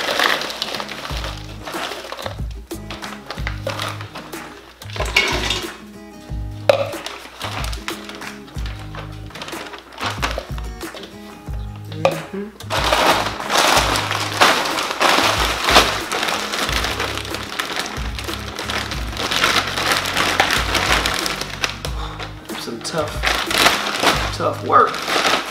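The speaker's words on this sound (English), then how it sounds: "We're gonna add our frozen veggies." Frozen vegetables tumble into an Instant Pot for teriyaki chicken, a dense rattling, crunching clatter of hard frozen pieces that swells and continues for most of the stretch, loud and close, with music or talk faintly underneath.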